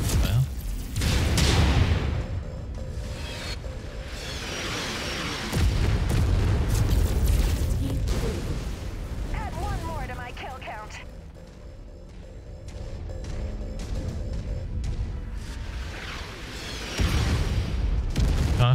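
Heavy bombardment in MechWarrior 5, deep booming explosions landing in repeated bursts with rumbling tails, interspersed with mechanical clatter and crackling debris between blasts.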